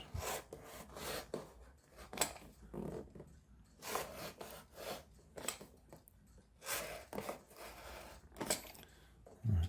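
A blade cuts into a cardboard box for a homemade rubber band car, giving a series of short rasping scrapes in an irregular rhythm, close and fairly quiet, with no talk.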